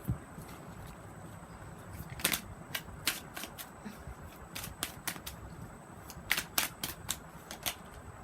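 Tarot cards being shuffled close up, quiet papery riffles broken by a series of sharp snapping flicks at an irregular rhythm.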